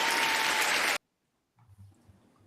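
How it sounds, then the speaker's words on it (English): An applause sound effect played over a call, a dense burst of clapping for about a second that cuts off abruptly, followed by silence and then faint background noise. "Kenzie, you have an applause thing."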